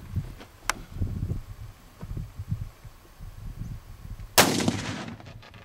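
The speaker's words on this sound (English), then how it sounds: "we're going to be shooting the ballistic wall with gravel." Gunfire aimed at a gravel-filled ballistic wall at an outdoor shooting site: one sharp, loud report rings out near the end, after scattered low thumps and rumble.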